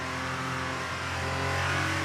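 Steady, droning F2 race car engine in the video game F1 23 at high revs, holding a continuous buzzing tone without any voices.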